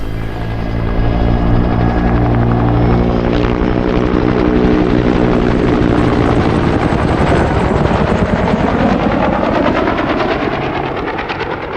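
A Bell Cobra attack helicopter's rotor chops loudly and continuously, the pulsing blade thump and engine whine shifting in pitch as it dives steeply and rolls in an airshow display.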